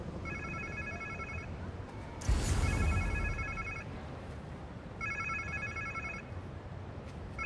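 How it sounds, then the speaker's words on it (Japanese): A smartphone rings in the video game Marvel's Spider-Man 2, sounding as a repeating electronic chime in separate bursts over a quiet ambient game background, with a brief louder whoosh partway through. "誰かのスマホだ"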